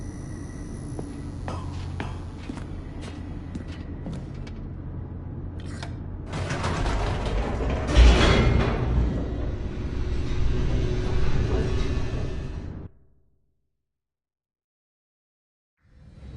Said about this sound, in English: The elevator raced downward, plummeting towards an unknown fate.